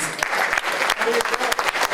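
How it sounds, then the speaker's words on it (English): Warm applause from an event audience welcoming a guest speaker, a dense burst of many hands clapping, close and loud with a few sharper individual claps standing out. "So a warm round of applause for Daryl Barnes"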